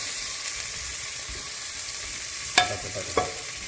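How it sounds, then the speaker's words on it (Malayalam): Onions sautéing until golden brown for beef bone curry, a soft continuous sizzle with two sharp scrapes of a spatula stirring the pan near the end. "ഉള്ളിൻ്റെ ഇതേ കളറെല്ലാം മാറി നല്ല ഗോൾഡൻ ബ്രൗണിൽ ആവുന്നത് വരെ നമുക്ക് നല്ല ഇങ്ങനെ ഇന്നൊന്ന് വഴറ്റിയെടുക്കാം"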